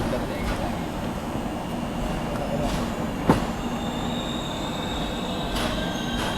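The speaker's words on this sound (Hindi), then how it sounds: "दोनों ट्रेन एक साथ अराइव की है खड़गपुर जंक्शन पे।" The Chennai Central–Howrah Mail rolls into Kharagpur Junction, with a steady rumble of rail cars, faint wheel squeal and a sharp clank, and people talking nearby over the train noise.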